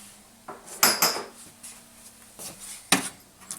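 Two ceramic coffee cups placed onto a Saeco Lirika Plus espresso machine, a few clinks and clattering knocks at close range, the sharpest near the start and another toward the end, with no talk.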